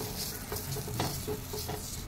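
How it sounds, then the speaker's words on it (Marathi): Oil sizzles on a hot iron griddle heated for making ghavan rice-flour pancakes, a steady close frying hiss with small stirring scrapes running through it and no talking. "तव्याला आता आपण तेल लावून घेऊ"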